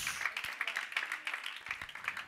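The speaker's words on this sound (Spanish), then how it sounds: "Dale palmas al Señor, dale palmas, dale palmas." A church congregation claps for the Lord in quick, steady rhythmic hand claps, moderately loud and close, with faint voices mixed in.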